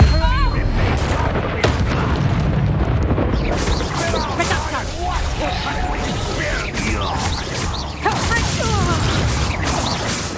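Expelliarmus spell effect in the Hogwarts Legacy video game, amid dense, loud combat with repeated booms, whooshes and impacts, voices mixed in throughout.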